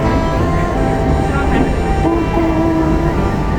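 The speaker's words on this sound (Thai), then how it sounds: "ไปแล้วรถไฟไปแล้ว" A monorail skytrain on Bangkok's Gold Line rumbles past loudly and continuously while rounding a curve, with a thin metallic squeal rising briefly near the end.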